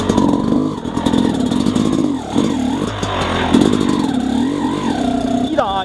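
An XTNG GEN3+ 36 motorcycle engine drones loudly and close, rising and falling in pitch as the throttle opens and eases, with a brief higher rev at the end.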